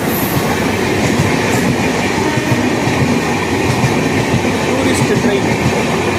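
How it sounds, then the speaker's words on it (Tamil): A tourist train passes close by on a line 219 km from Chennai Beach, its loud steady rumble and clattering wheels filling the scene without a break, with a faint high squeal near the start. "Tourist train."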